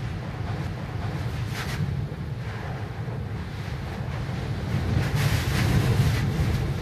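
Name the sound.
Hurricane Irma wind and heavy rainfall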